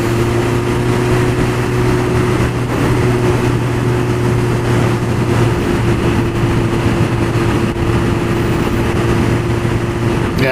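A motorcycle engine drones steadily while riding on a fresh autumn day, with a constant low hum and heavy rushing wind noise that hold at the same loud level throughout, and no voice.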